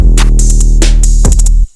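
In a lo-fi beat, a crisp second hi-hat layer ticks in quick, uneven bursts over a deep bass. The beat cuts off abruptly.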